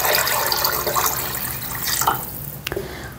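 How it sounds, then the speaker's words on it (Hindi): Water from a jug pours into a cooking pot for chicken broth, a steady loud splashing stream that tapers off near the end. "इसमें मैंने डालनी है 2 जग पानी"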